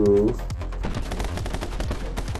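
Gunfire from the video game My Friend Pedro, with a tonal blast followed by a dense rapid stream of crackling shots and impacts, loud and continuous.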